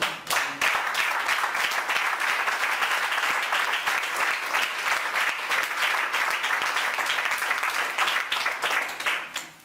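Church congregation applauds during a sermon, a long stretch of full, lively clapping from many hands at even volume, fading slightly at the close.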